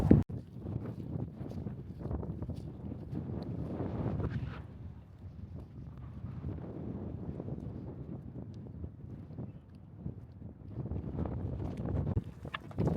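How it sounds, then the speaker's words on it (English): Strong wind roars across the microphone outdoors on the Outer Banks, a steady buffeting rumble with gusts swelling and easing throughout, no voices over it. "Super windy here"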